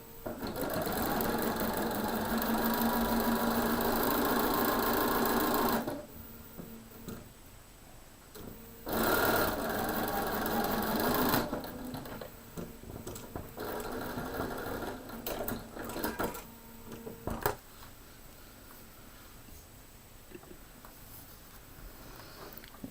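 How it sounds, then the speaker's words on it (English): A sewing machine runs close and steady while stitching a quilt block, with one long run and then a shorter burst, and quieter fabric handling in between. "let's go back to the machine. I'll sew one more of these"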